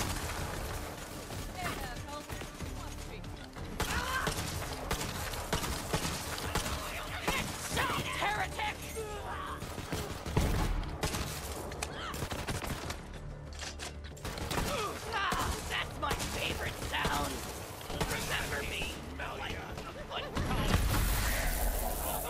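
Gun battle in Borderlands 3, with dense, continuous gunfire, mechanical clatter and shattering impacts packed together throughout, loud and busy, with a voice talking over it in places.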